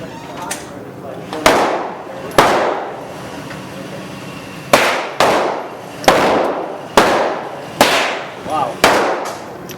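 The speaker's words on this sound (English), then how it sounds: "Shoot another shot." Gunshots crack at a shooting range, six or seven sharp loud reports spaced irregularly a second or two apart, each with a ringing decay, with a few quiet voices in the background.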